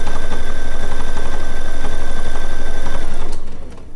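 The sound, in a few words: sewing machine stitching decorative stitch on quilt binding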